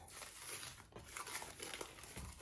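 Rested tortilla dough is unwrapped from plastic wrap, giving faint, close crinkling and rustling in short bursts.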